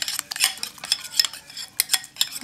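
A utensil stirs lemon pepper seasoning into a mix in a bowl, giving a string of close, irregular scraping and clinking strokes with short pauses and no talk.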